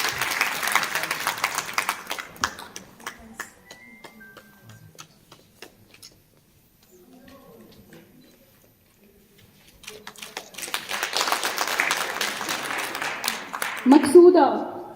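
Applause from an audience at an International Women's Day celebration honouring a gold medalist in cycling and judo, with a burst of clapping at the start that fades, a quiet stretch, then louder sustained clapping building toward the end.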